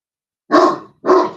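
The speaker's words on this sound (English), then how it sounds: "no barking" Two loud, close dog barks in quick succession from a grumpy old dog, each a sharp burst with a short tail, separated by a brief pause and heard alone with no talking.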